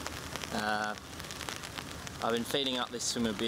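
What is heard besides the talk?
rain falling at a lake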